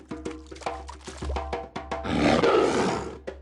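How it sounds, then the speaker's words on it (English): Lions roaring in an animated cartoon: a string of sharp rhythmic hits gives way to a loud, rough, sustained roar that swells and then fades. "He woke up right away when he heard lions roaring"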